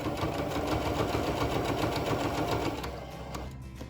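Sewing machine stitching seams on a handmade bag, a steady, close, fast mechanical whir and rapid needle chatter running continuously before easing off near the end.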